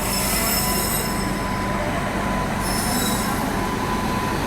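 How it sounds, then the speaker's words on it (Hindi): Karnataka Express rolling past on the rails while overtaking, a steady close train roar with high wheel squeal that swells at the start and again toward the end, with no talk. "यहाँ पर ये देखो एरो डायनेमिक अपने वेब 7 के साथ में ये ओवरटेक मार के जाने वाली है यहाँ से कर्नाटका एक्सप्रेस"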